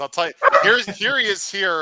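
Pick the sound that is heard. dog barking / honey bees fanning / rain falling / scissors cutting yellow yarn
dog barking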